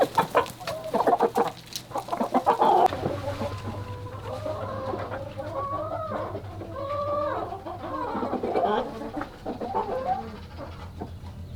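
Several chickens cluck and chatter in a clear-roofed coop, with short bursts of clucks and a few louder squawks. A steady low hum runs underneath, and no one speaks.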